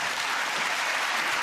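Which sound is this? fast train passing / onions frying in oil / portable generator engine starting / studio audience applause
studio audience applause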